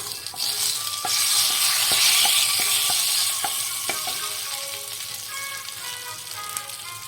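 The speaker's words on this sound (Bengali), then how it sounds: "কড়াইতে আমি তেল নিয়েছি সামান্য। এবার আমি 2টো তেজপাতা দিয়ে দিলাম।" Two bay leaves sizzle in a little hot oil in a wok, a steady bright frying hiss with a series of sharp clicks from stirring, no voices.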